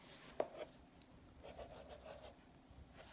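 Faint scratching of a fountain pen nib across Tomoe River paper with grey ink, quiet strokes with a sharp tap early on, in a hushed setting.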